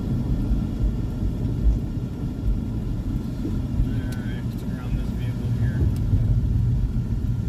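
A car drives slowly and turns around on a hot paved country road, its engine and tyre rumble steady and close, with someone talking over it throughout.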